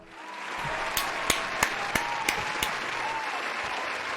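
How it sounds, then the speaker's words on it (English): Steady applause from a crowd, with a few louder, sharper claps popping out at regular intervals above the dense patter. "can we get a round of applause, please, for Banter"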